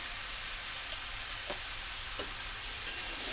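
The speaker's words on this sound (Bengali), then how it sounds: "আমরা নাড়াচাড়া করে নিচ্ছি ভালো করে সুন্দর করে কষিয়ে নিতে হবে এটা মশলার সঙ্গে" Spices are stirred and fried in a pan for a light rohu fish and potato curry. A faint, even sizzle hisses in the background, with two soft spoon scrapes and a small knock near the end.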